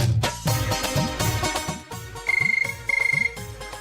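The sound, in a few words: telephone ringing when calling home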